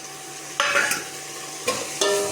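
Onions sautéing and being stirred in a pan while cooking vegetable rice, a low steady sizzle broken by two brief bursts of scraping and stirring, heard up close with no talk.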